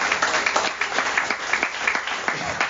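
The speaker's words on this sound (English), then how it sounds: "Give those guys a round of applause" An audience at a twelve-step group meeting applauds, a fairly loud, dense run of clapping from a roomful of people that holds steady throughout.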